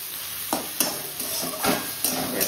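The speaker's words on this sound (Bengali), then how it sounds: "প্রায় ভাজা হয়ে এসছে, এবার মশলা দিয়ে দেবো।" Filling for roti rolls fries in a pan, coated in ginger, chilli and garlic paste with turmeric, cumin and coriander powder. It sizzles softly under repeated scraping stir strokes, about five distinct scrapes at an uneven pace.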